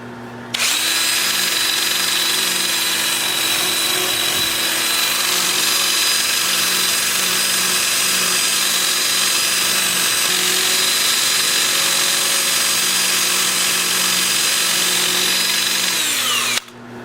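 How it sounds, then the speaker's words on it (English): A drill spins up and runs steadily for about sixteen seconds with a 2-inch, 80-grit sanding disc buzzing against a turned wooden bowl, a constant close whirring hum, then stops. "Then I will switch to my 2-inch sanding disc at 80 grit"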